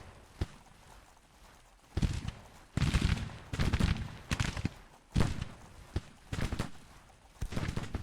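Troops firing volleys of musketry in the Civil War strategy game Grand Tactician, irregular rolling bursts of massed rifle fire, some crackling and distant, others heavier and closer, separated by short quiet gaps.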